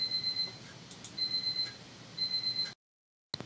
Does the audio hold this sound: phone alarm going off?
yes